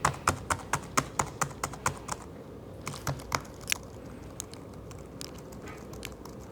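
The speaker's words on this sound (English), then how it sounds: "I feel like a hacker mashing my keyboard like this." Fast, uneven bursts of key presses on a computer keyboard, clattering loudly and then trailing into sparser, softer taps with a quiet room behind them.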